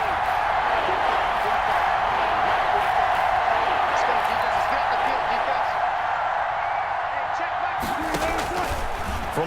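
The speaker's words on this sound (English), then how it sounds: "Crowd getting in it a bit already." A stadium crowd at a football game at Raymond James Stadium keeps up a steady, loud, dense roar and cheer throughout, under a commentator's voice.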